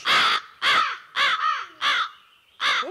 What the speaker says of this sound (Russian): Слышишь? Ворона каркает.